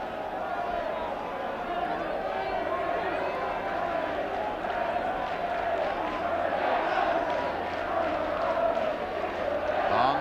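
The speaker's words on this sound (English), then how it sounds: "The Welsh crowd are saying, we want 5" Welsh football crowd chanting inside a stadium at the racecourse during a Wales v England match, a steady, dense roar of massed voices sustained throughout without pause, with a commentator talking over it.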